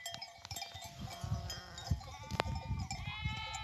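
Sheep bleat on a highland pasture in light drizzle, with several calls at varied distances, some near and some farther off, over a soft outdoor background and without talk.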